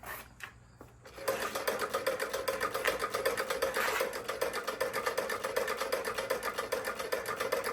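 An early-1900s treadle sewing machine runs steadily with a fast, even mechanical clatter, close and continuous after a brief quiet start.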